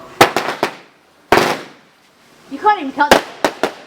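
Fireworks go off during a night display, sharp loud bangs in quick clusters, first a few close together, then a single burst, then more, while a person's voice speaks and exclaims between them.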